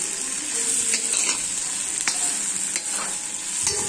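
Broiler chicken pieces sizzle steadily in a large kadai wok while a utensil stirs and scrapes through them, with occasional clicks over a constant loud frying hiss and no talking.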